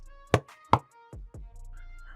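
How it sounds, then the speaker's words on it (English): Two heavy knocks on a prison door, sharp and close, about half a second apart, followed by a couple of duller thuds in a quiet room. "Trudging towards the door, he bangs 2 times."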